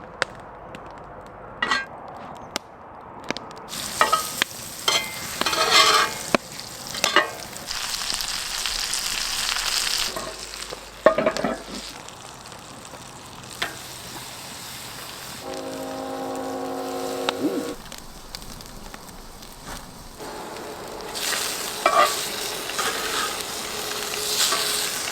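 Mushrooms frying in butter with seasoning in a pan at a campsite, bursts of sizzling hiss broken by utensil clinks and quieter gaps, with a brief tonal hum partway through.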